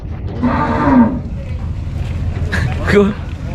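Cattle lowing at a livestock stockyard in Magallon, with two drawn-out moos about two seconds apart, heard amid busy crowd noise and people talking nearby.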